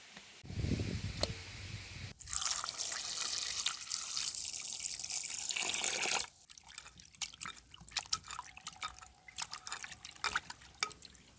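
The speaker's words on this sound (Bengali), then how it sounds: "মাছটা আমি এই যে শেষ ধোয়া দিচ্ছি। মাছ পরিষ্কার হয়ে গেছে, ধোয়া হয়ে গেছে।" Tap water runs steadily for a few seconds while bata fish are rinsed in a village kitchen, followed by scattered drips and splashes as the flow stops. No voices.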